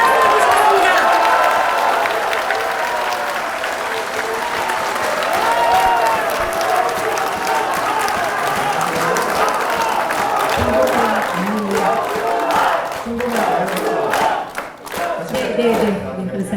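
An audience at a rally applauds loudly and continuously, with scattered cheers mixed into the dense clapping. The clapping thins out near the end.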